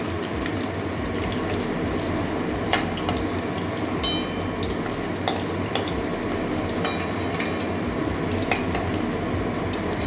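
Egg frying in a pan, a continuous crackling sizzle with scattered pops and faint scraping stirs, steady and close.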